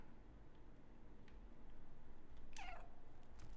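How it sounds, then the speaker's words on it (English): A cat meows once in a video game, a short, clear, rising-then-falling call partway through, over a quiet, low background hum. "if you meow, they should react"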